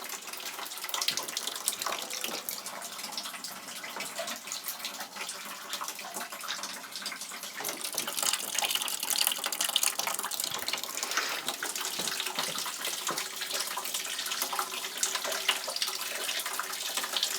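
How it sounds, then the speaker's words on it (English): Steady pouring of 170-degree sparge water into a mash tun over a grain bed runs continuously, a full splashing stream, close and fairly loud throughout with no voices. "we're adding fresh 170 degree water to the mash tun"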